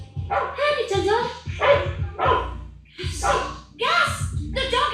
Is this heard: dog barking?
yes